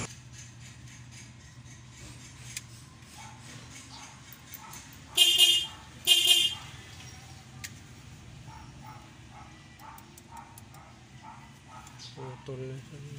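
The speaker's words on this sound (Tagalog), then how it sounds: "So ngayon titesting natin kung may horn." Two short, loud honks from a Suzuki DA64W's horn during a repair test, each lasting about half a second, with a faint rattle and quiet speech in the background.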